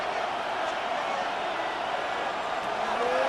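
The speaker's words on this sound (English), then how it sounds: "Well, this crowd into it now." Steady roaring crowd noise in a Madden NFL 26 simulated Steelers vs. Bengals game, a dense continuous wash of cheering with no breaks, while a commentator talks over it.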